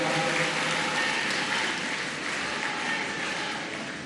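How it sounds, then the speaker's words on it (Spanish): A crowd applauds the governor at a public event in Reynosa announcing new housing, a dense, steady wash of clapping that holds loud throughout and fades slightly toward the end. "les pido que le demos un fuerte aplauso"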